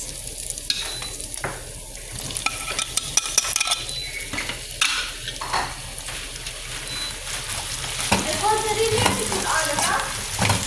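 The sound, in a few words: sautéing onion, then tomato, in a pan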